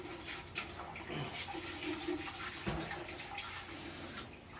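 Water runs and splashes steadily while aquarium filter media is rinsed and packed into a filter canister, a continuous close rushing with brief rubbing and clunks.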